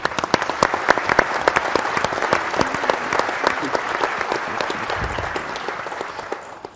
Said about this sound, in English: I'd like you all to give yourselves a hand of applause because you deserve it.